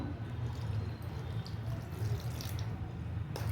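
Orange juice is poured over dry fruits in a bowl, giving a quiet, close trickle and splash of liquid with a faint low hum behind it and no speech.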